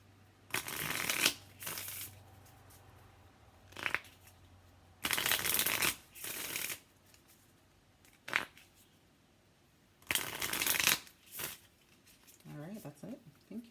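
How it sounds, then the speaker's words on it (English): Oracle cards from a wellness card deck are shuffled in several loud riffling bursts with pauses between, close by and alone. "we're going to pull 3 from the Island Times Wellness cards supplementary deck"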